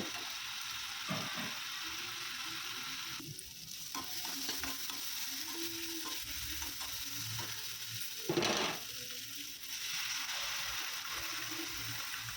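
Spice masala with Kashmiri chilli powder fries and is stirred in a pan for a paneer dish, giving a steady close sizzle with scraping stirs and a louder burst of stirring partway through.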